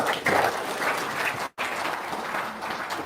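An audience breaks into applause, a close, full burst of clapping that drops out sharply for a split second midway and then carries on.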